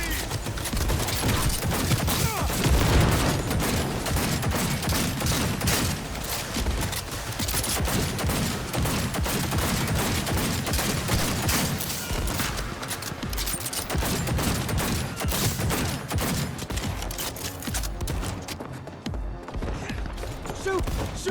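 Heavy gunfire in the video game Cyberpunk 2077: rapid, dense bursts of shots crackle continuously and loudly for the whole stretch, with brief voices mixed in beneath the barrage.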